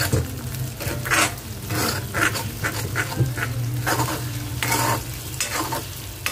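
Beef tripe frying and being stirred in oil in a pan, a steady close sizzle broken by repeated scraping strokes of the spatula, with no talking.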